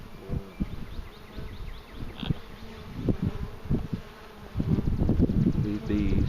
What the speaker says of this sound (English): I got bees on me.